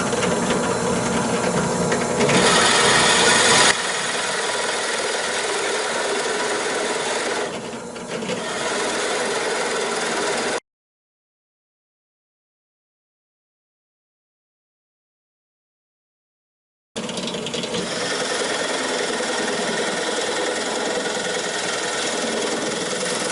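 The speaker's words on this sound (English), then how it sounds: "The hole is 1 3/4, which I am going to do with the Forstner bit." A 1 3/4 inch Forstner bit boring a hole in wood on a wooden boat build, a close, loud rasping drill run that stops partway and resumes after a gap of silence.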